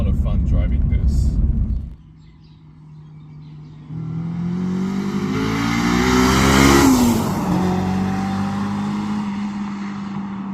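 A Honda S2000 engine revs up through a rising, loud climb inside the car, then eases off into a steady drone, with a voice talking over the opening seconds.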